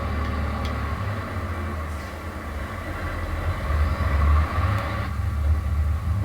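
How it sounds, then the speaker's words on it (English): Tractor engine pulling a heavy grass tool in a farming video game, a steady low rumbling drone with a swelling throb toward the end, continuous and fairly loud with no talk. "And this tractor just sounds fantastic"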